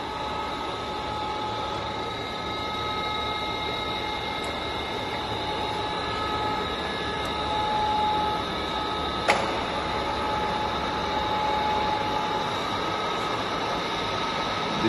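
A Csepel RF 50/1600 radial arm drill from Hungary runs with its spindle at a low 50 rpm, giving a steady mechanical hum with faint tonal whine and one sharp metallic tick midway, no voices.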